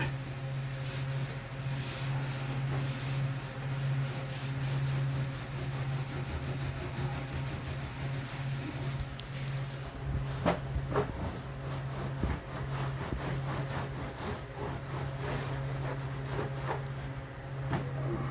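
A sander works over an old wooden cabinet, giving a steady, fairly quiet rasping rub that continues without pause, with a few sharper scrapes near the middle.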